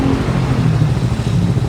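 A Yamaha New Vixion motorcycle engine idles steadily at night, a low continuous rumble that stays even and close throughout, with no revving or talk.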